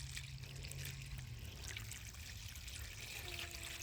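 Water from a pitcher runs through a small garden fountain pump, a soft steady trickle and dribble in a quiet outdoor setting.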